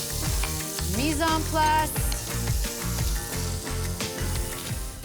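Lamb sears crisply in a hot pan for a braise, crackling and sizzling steadily under background music, with a brief voice speaking.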